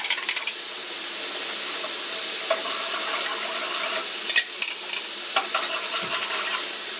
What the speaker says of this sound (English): Gravy's up to a boil.